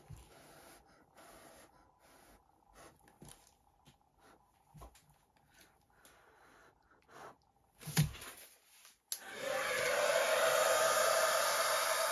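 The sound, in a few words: hair dryer blowing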